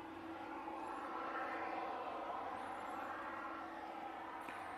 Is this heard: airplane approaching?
yes